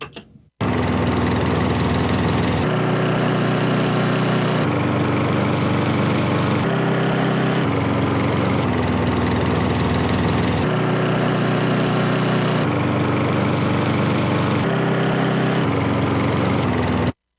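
A lawnmower engine sample plays alone as a loud, continuous buzzing drone, its pitch shifting in steps every couple of seconds like notes being played.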